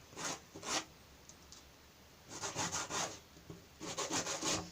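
Quiet, gritty rubbing of hand sanding a cork in three bursts of quick back-and-forth strokes, separated by short pauses.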